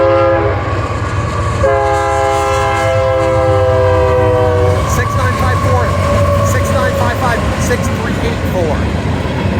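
Union Pacific 6954 manifest freight train approaching a road crossing, its horn sounding in long loud blasts over a steady rumble of the locomotives and cars, with rail clatter building as it nears.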